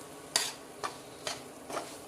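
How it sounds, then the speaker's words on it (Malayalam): Salted mango pickle being stirred in a pan with a utensil, four distinct scraping strokes at a steady rhythm, close and clear over a faint background. "നല്ലപോലെ ഇളക്കി കൊടുക്കണം."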